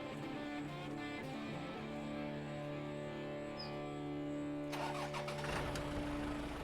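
A heavy truck engine in the off-road driving game SnowRunner runs steadily with a deep droning idle, then surges louder and rougher near the end as it revs up, with no voices.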